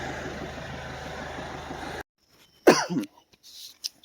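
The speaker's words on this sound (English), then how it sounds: "I've had this cough for months." A person coughs a couple of times, close and loud, after a steady engine-like drone suddenly cuts out; a chronic cough that has lasted for months.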